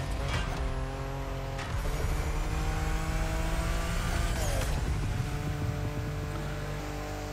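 A Mitsubishi 3000GT VR4 No Rules Edition races in The Crew Motorfest, its engine roaring steadily and loudly throughout with revving climbs, brief dips at gear changes, and no talking.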